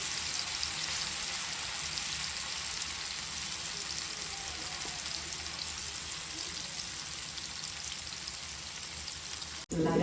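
Potato and fish pieces frying in a hot kadai, a steady dense crackling sizzle that holds at an even level throughout before cutting off abruptly at the very end.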